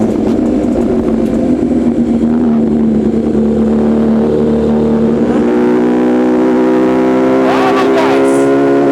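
An MV Agusta Brutale 1000 naked motorcycle engine drones loudly and steadily, its pitch rising and falling with revs, while a person talks over it.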